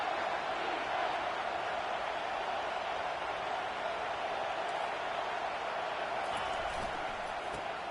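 Dense, steady roar of a football stadium crowd at a deafening pitch on third and goal, an unbroken wash of noise with no breaks or lulls.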